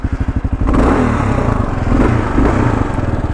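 A 2003 Kawasaki KLR 650 adventure motorcycle's single-cylinder engine thumps at idle in rapid even pulses, then opens up into a loud, close, sustained rev as the bike pulls away.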